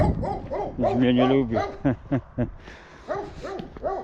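Dog barking in short sharp bursts near a small house along a mountain forest walk, the barks cutting in between and over a person's talk.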